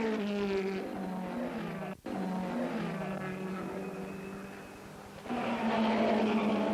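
Porsche 917 race cars racing in wet, appalling conditions in the 1970s, engines droning loudly and steadily as they pass, rising to a stronger roar near the end; no talking.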